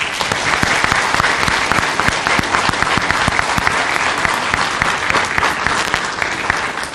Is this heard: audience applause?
yes